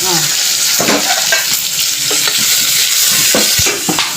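Steady sizzling of onions sautéing in a pan, with intermittent scraping and stirring strokes over the continuous hiss.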